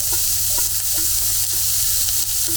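Two large chopped onions frying in a pan for a South Indian ridge gourd kootu, with a loud, steady sizzle and repeated stirring scrapes throughout and no talk.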